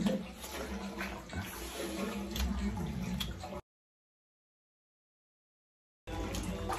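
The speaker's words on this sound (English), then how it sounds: "Hot water coming out super hot." Mineral hot spring water pouring into a tub at a California hot springs resort, a steady gushing splash that cuts out abruptly midway and then resumes.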